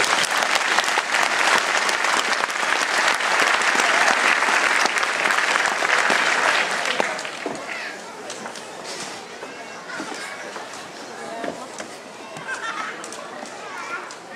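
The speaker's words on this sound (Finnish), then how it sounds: "Annetaan vielä aplodit!" A crowd claps loudly and steadily for several seconds at an outdoor Finnish championship gold medal celebration, then the applause thins out while scattered voices and footsteps carry on nearby.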